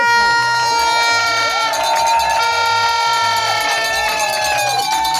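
Wedding guests at a civil marriage ceremony cheer and acclaim the newlywed couple, a loud, sustained crowd roar with shouts and whistles, steady throughout, while music plays alongside.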